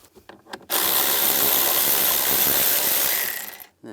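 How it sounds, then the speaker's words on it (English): A power tool drives a 13mm socket to back out a bolt on a 1998-2010 Volkswagen Beetle, a loud steady whirring grind lasting about three seconds after a few light taps and clicks. "Using a 13mm socket, we're going to take this bolt out."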